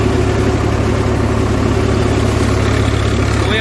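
A tractor engine with a three-cylinder Kirloskar inline-pump diesel runs steadily while threshing wheat in the afternoon, a loud close continuous drone without a break.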